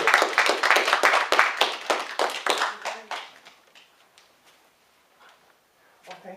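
Round of applause from a lecture audience, clapping loudly at first and then thinning out and fading to scattered claps over several seconds.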